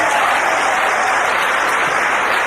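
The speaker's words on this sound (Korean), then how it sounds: "대충 맞다 생각하시는 분들만 박수 한번 주시면 대단히" A crowd at Kim Hyung-gon's Korean stand-up comedy show bursts into loud, sustained applause. The clapping is thick and unbroken, filling the room evenly from start to finish with no speech over it.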